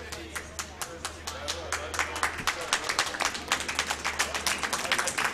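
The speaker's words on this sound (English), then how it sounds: "Applause in the warm room for the Chesapeake team" Steady applause and clapping from a small crowd in the warm room beside a curling sheet, greeting the Chesapeake team during a senior mixed curling match, with dense hand claps running continuously throughout.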